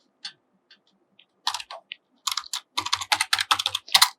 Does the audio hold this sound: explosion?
no